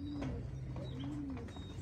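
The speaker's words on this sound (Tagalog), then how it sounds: "Okay, so ito yung mga ibon." Racing pigeons cooing inside a loft, two soft, close, low coos rising and falling in a short rhythmic pattern over a quiet, steady room hum.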